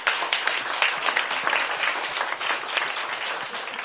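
A room full of people at a party meeting applauds to approve appointments unanimously, a steady burst of many hands clapping close and continuous throughout, with no talking over it.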